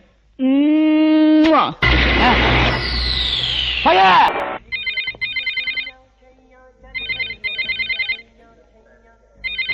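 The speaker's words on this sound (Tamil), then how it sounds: "அந்த போன் அட்டெண்ட் பண்ணாதே." A telephone rings in a loud, repeating pattern of electronic bursts, set in a Tamil film comedy scene, with other loud sounds and effects heard before the rings begin.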